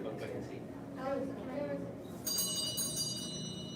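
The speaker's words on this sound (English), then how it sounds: "Did you see I got that bell working?" A small bell rings several times, its bright sustained tones entering partway through, over ongoing conversation and background chatter at an evening class.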